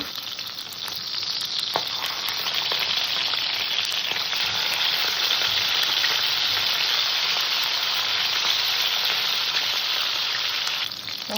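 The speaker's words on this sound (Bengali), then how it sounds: "আমি এবার মাছটাকে ভেজে নেব মাছ কিন্তু একটু আমি সুন্দর করে ভেজে নেব" Katla fish pieces fry in hot oil with a steady, dense sizzle that holds loud and even throughout, close by with no voices.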